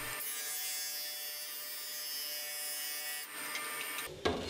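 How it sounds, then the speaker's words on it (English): A board sander runs steadily on wood boards in a woodworking shop, a continuous high buzzing drone with a shift near the end and a brief louder burst as the pass finishes. "Each time I ran the boards through the board sander, I rotated each piece of wood 90 degrees"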